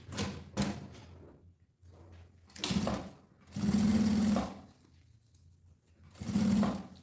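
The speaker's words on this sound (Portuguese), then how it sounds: "Dobra o viés e vamos passar a costurinha aqui, ó. Toda a volta." A sewing machine stitches folded bias binding all the way around the edge of a fabric pouch, running in three short, close bursts with quiet pauses between them.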